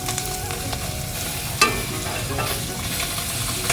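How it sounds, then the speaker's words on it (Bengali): Onions frying and being stirred in a hot pan for a home-cooked tiffin snack, a steady close sizzle with scraping stir sounds and one sharper clink partway through. "পেঁয়াজটা আমি একটু ভাজা ভাজা করে নেব"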